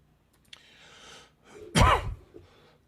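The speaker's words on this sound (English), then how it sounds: "I'm sorry about the cough." A single harsh cough, close and loud, preceded by a breathy throat noise and followed by a short trailing breath.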